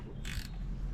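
A ratchet wrench on the bolts of a 2017-onward Suzuki DF4A–DF6A outboard engine, a brief quiet burst of clicking at close range.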